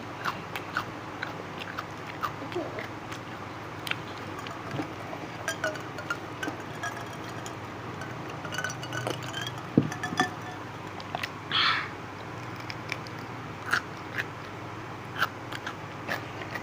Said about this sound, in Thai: กินหนวดอีกดีกว่าหนวดอร่อยกรอบ